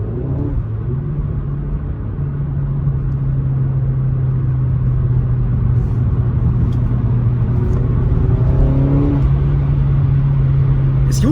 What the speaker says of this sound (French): le bruit, enfin le son, il vient plus du moteur que de l'échappement